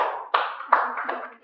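An audience at a church gathering claps for Park Seong-jin, a few sharp, separated claps with short gaps, sounding like only a handful of people, fairly close.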